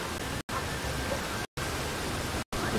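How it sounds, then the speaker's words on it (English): Loud, steady rushing roar of a waterfall in Super Mario Odyssey, heard close up, broken by three brief silent gaps. "This waterfall is loud."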